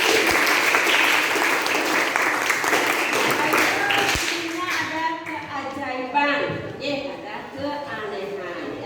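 Students in a classroom clap during a lesson on fantasy stories, a burst of dense applause that thins out after a few seconds, followed by a teacher and children talking.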